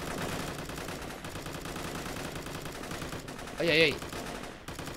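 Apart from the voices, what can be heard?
gunfire in the video game Operation Valor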